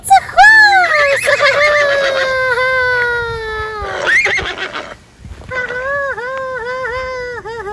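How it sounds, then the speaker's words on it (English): A horse whinnies loudly and close, two long descending neighs separated by a short pause, on a farm with a faint clatter beneath. "Oh, it's a horse! It's a horse!"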